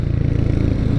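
Royal Enfield Hunter 350 motorcycle riding, a steady low single-cylinder engine drone close by with faint mechanical clatter, continuous and without talk.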